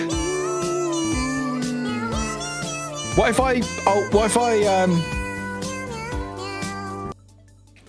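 Several cats meow in quick, rising and falling cries, set among sustained musical tones, with a brief spoken voice and the sound cutting off abruptly near the end.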